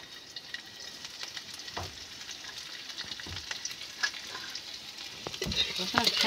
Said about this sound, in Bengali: তেল গরম হয়ে গেছে, রসুন কুচিগুলো দিয়ে দেবো।